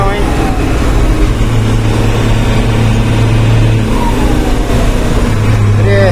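A rebuilt Scania 111 truck with a 366 engine and ZF gearbox runs at a steady, loud droning idle with low humming tones, continuous throughout, with someone talking briefly over it.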